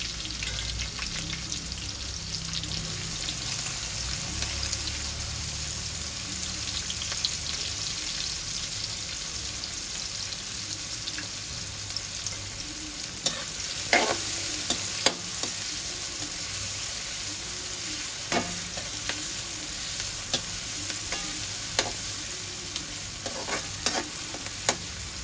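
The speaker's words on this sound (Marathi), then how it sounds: "आता आपण यावर कांदा घालूया" Onion and green chillies fry in hot oil in a pan for puffed-rice poha, giving a steady close sizzle throughout, with spatula scrapes and clacks from stirring becoming more frequent in the second half.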